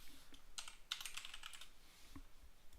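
Code being typed on a computer keyboard, a quiet run of close, crisp key clicks in short irregular bursts with brief pauses, no talking.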